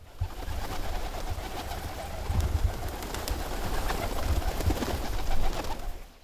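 Dolapçı pigeons coo softly and repeatedly amid a continuous rustling outdoor background, the calls faint and somewhat distant, with no one speaking.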